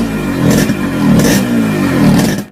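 A Yamaha RX100 two-stroke motorcycle engine runs loud and close, revving in repeated surges with a raspy, rattling idle between the throttle blips.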